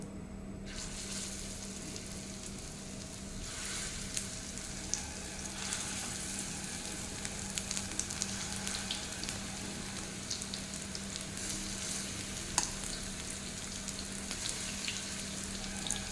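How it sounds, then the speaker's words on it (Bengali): Pumpkin flower fritters sizzle steadily in hot oil over a medium-low flame, a continuous close frying hiss with small crackles and pops throughout, no voices. "এখন গরম তেলে এই যে এটাকে আরও একটু মেখে নেবো, নিয়ে এইভাবে ছোট ছোট বড়ার আকারে দিয়ে দেবো।"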